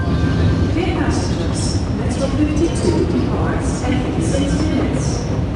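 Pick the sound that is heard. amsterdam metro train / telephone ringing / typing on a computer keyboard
amsterdam metro train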